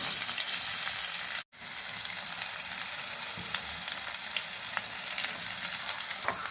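Onion pieces sizzling in hot oil with mustard seeds for an Andhra-style fish curry, a steady dense frying hiss with a brief pause, close and moderately loud.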